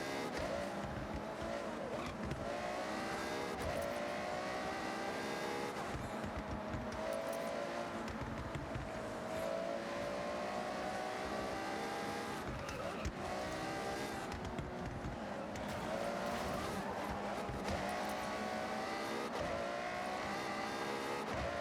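A race car in a racing video game drones on throughout, its engine rising and falling in pitch through repeated revs and gear changes, steady and continuous at moderate loudness.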